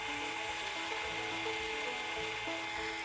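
Steady high-pitched whine of a drill boring 3/16-inch pin holes through handle scales on a 5160 steel knife, continuous and close, with small pitch shifts as the bit works through.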